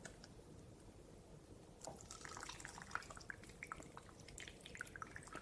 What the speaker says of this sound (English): we pour only the liquid fraction